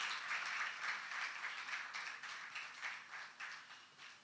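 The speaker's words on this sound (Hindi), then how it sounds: "तो ज़ोरदार तालियों से हम इसका स्वागत करते हैं." Audience applause at a book title launch during a monthly music concert, a dense wash of clapping from many hands, loud at first and gradually thinning toward the end, with no voices over it.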